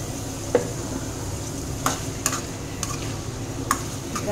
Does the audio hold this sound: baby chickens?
no